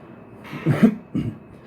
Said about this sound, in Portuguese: um momento ou outro eu poderei ter uma tosse